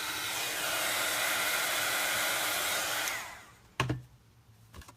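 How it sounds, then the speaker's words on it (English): A heat tool blows a steady, loud, close whoosh over a stamped spot for embossing for about three seconds, then cuts off, leaving a couple of brief knocks and faint handling noise. "Let me just heat this one spot just a little."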